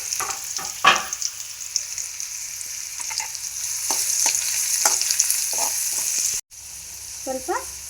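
Onions and curry leaves frying in a South Indian tempering for oggarane avalakki, a bright close sizzle with scattered stirring scrapes and clinks and a brief dropout near the end, with no speech.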